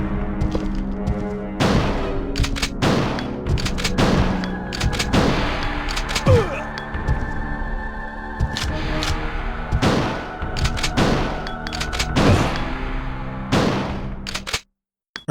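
Gunfire in the original Resident Evil 2 on PC: a rapid series of loud, sharp shots in a steady irregular rhythm over a droning game background, ending abruptly.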